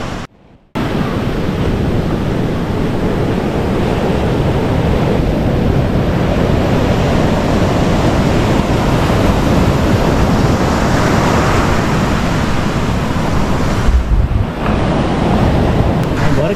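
Ocean waves break on a beach at Viana do Castelo, a loud continuous surf wash with heavy wind rumble across the microphone and no talk.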